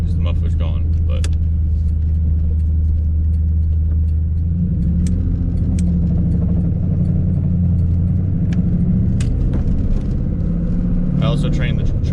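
A fourth-generation Camaro with a stock engine and its muffler removed drives along, a steady low exhaust rumble with shifting engine tones and occasional creaks and clicks from the cabin.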